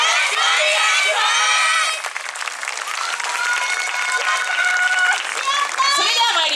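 Crowd at a yosakoi dance festival applauds and cheers for a kids' team, clapping mixed with high shouts and whoops from children, loud and close, with voices calling out over it.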